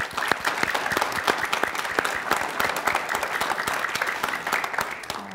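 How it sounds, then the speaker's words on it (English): Applause for the final winners on a competition show, a lively round of many hands with distinct individual claps popping out across a dense, fairly close wash. "I will give a clap to the final winners"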